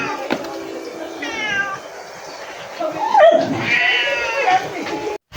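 Several cats meow repeatedly at close range, their cries rising and overlapping, with a person's voice briefly audible among them.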